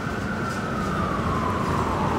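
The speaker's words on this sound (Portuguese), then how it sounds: "Esse barulho da sirene, ó," An emergency siren wails through New York City streets, a steady tone slowly falling in pitch, moderately loud over a constant rumble of traffic, with no voices.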